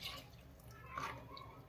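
Water that was used to rinse a mixer is poured into boiling mackerel curry, giving a faint, brief splashing and dripping trickle with quiet bubbling, and no voices.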